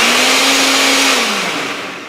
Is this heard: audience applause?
no